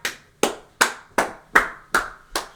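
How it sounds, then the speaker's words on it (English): Seven evenly spaced, crisp hand claps in a steady church-clap rhythm, each one loud and close with a short ringing tail. "They was doing some church clap."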